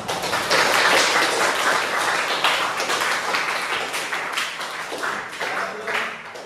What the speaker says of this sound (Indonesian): boleh tepuk tangannya dulu untuk kita semua